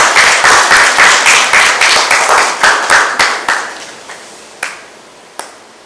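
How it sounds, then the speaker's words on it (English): A small temple audience claps for Guruji at a Guru Purnima gathering, with a quick burst of clear hand claps that thins out into a few scattered late claps and then fades. "Let's give Guruji a round of applause"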